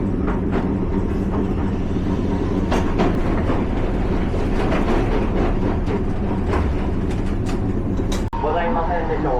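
A city tram in Matsuyama, Japan runs and turns right with a continuous heavy rumble and rhythmic wheel clatter, then a brief metallic squeal near the end, with a voice speaking over it.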